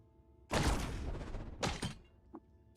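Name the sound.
linear cannon shot fired point blank in Caves of Qud video game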